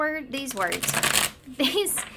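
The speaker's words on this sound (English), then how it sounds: "one more quick shuffle here." Tarot cards are shuffled in a quick riffle, a dense papery flutter in the middle of the stretch, with someone talking before and after it.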